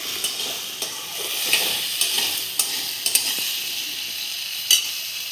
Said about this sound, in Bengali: একটু লবণ দেবো, একটু হলুদ দেবো, দিয়ে ভালো করে ভেজে নেব।